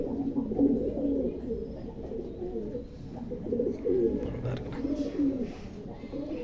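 Domestic country pigeons coo steadily and close by in a loft, making layered, throaty rolling calls over a constant background murmur.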